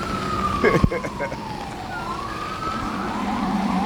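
An emergency siren wails and sweeps up and down in pitch beneath steady traffic noise, with a brief clatter near the start.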